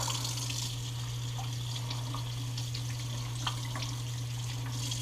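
Goose meat being rinsed under a running tap produces a steady, close rush of water with a constant low hum beneath and faint splashes, fairly quiet and uninterrupted by talk.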